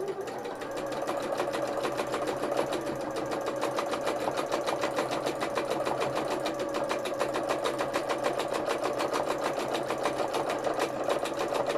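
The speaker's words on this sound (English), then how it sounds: "Sorry about the noise my machine's making." A sewing machine in need of servicing runs steadily and fast during free-motion embroidery, its rapid mechanical stitching rhythm loud and close, with no talking over it.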